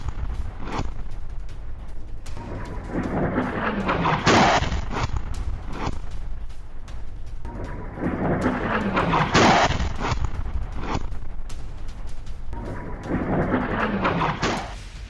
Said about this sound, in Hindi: हिजबुल्ला ने इसराइल के अल जलील पर दागी है कई मिसाइल